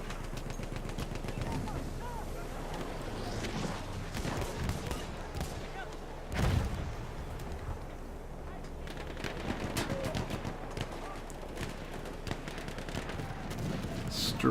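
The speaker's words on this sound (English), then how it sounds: "Dropping those bombs." Bombs dropped during a strafe run in Battlefield 1, with dense rattling gunfire and a heavy blast near the middle, under constant battle noise and a commentator's voice.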